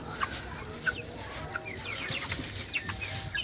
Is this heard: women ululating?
no